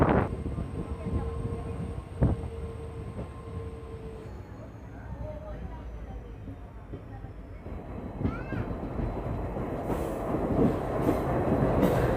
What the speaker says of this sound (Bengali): ট্রেন ঢুকছে আমাদের বালুরঘাটে